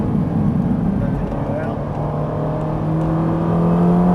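A Ferrari 458 Italia V8 at full throttle on the Haute Saintonge circuit, its engine note loud, close and steadily rising as it accelerates, with a continuous whirring roar throughout.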